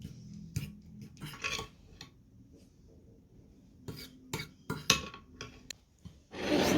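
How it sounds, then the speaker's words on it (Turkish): Cheese and tomato stirred together and spread over baked pasta, with scattered scraping, clinking and rubbing of a utensil against a dish in short close bursts separated by quiet gaps. "Peynirle domatesi karıştırıp makarnanın üstüne koyacağım."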